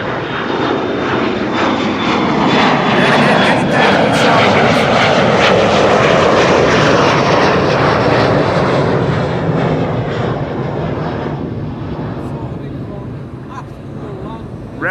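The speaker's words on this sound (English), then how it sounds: "that's a KLM Embraer 175 to Stavanger" A KLM Embraer 175 jet roars on departure from a runway at Amsterdam Schiphol, a loud, broad engine rush that swells to a peak midway and then eases slowly as it pulls away, with voices faintly underneath.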